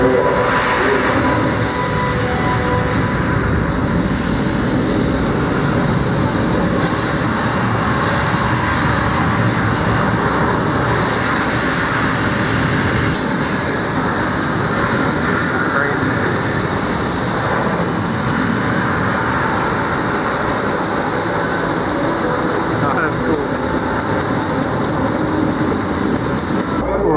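Rocket engines roar during a launch presentation at Kennedy Space Center, a dense, continuous broadband rumble that stays loud and steady throughout, with no speech over it.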